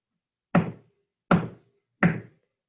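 Three evenly spaced knocks on a hard surface, crisp and close, each one short with silence between.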